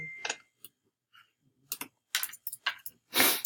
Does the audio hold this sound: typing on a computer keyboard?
yes